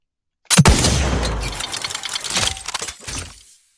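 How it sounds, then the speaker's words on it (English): A single retro-organic gunshot from The Outer Worlds 2, heard without its reverb tail: a sharp loud crack with a gritty mechanical rattle, followed by a second shorter burst, stopping dry without a lingering decay. "Here is the gun without the tail."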